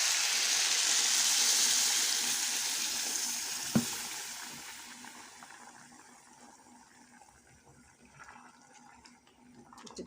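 Hot water poured over salted rice sautéed in ghee in a pot, a loud rushing pour and sizzle that swells at first, then slowly fades to a softer bubbling hiss.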